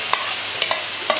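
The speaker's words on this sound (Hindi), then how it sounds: "अब हम इसमें ये डालते हैं कलेजी पोटा।" Chicken liver and tripe stirred into sizzling cooked masala, a light crackling fry with a few quick spoon scrapes in a short burst.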